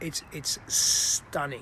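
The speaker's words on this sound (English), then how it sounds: "And you can hear the birds now in the background." Birds call in the evening outdoors in Southern California, with short, bright chirps and a sustained whistle-like note, fairly faint, and a person speaks briefly at the end.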